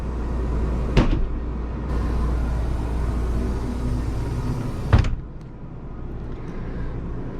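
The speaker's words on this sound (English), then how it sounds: "Pocket door, air powered." An air-powered pocket door slides inside a 2005 Newell motor coach: a sharp pneumatic thump, a steady low hiss and rumble, then a second firm thud as the door seats, under a constant engine-like drone.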